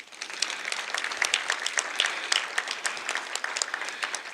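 People seated around a table at a union presentation applaud, with distinct individual claps heard in an even, lively patter that keeps going at moderate loudness, with no talk over it.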